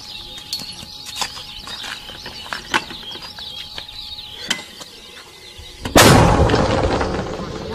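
Scattered clicks and rustles lead up to a single sudden heavy boom of a mortar firing near Luhansk airport in Ukraine, followed by a lingering rumbling decay.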